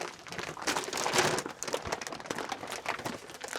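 Thick plastic wrapping on a new Airstream mattress, crinkling and rustling as it is handled, with close, irregular crackly bursts and no voices.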